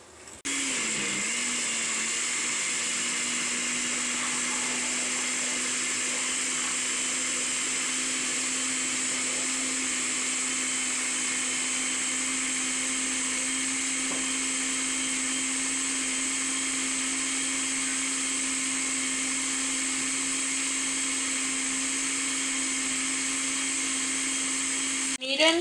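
A blender runs steadily for about 25 seconds, grinding boiled tomatoes, cilantro and their cooking water into a green sauce for pork ribs, a loud, even motor whine that stays close and constant from start to finish.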